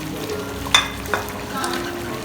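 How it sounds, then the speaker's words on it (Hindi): Boiled chickpeas frying with chicken in a pan for Lahori murgh cholay, under a steady close sizzle with two sharp stirring scrapes early on and softer stirring afterward; no speech. "और इनको भी थोड़ा सा हम फ्राई करेंगे चिकन के साथ ही।"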